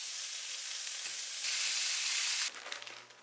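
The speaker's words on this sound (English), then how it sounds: "Cook the chicken tenderloins and bacon in a frying pan." Steady, loud sizzling of chicken tenderloins and bacon frying in a pan, a continuous crackling hiss that drops off suddenly near the end, leaving lighter spattering.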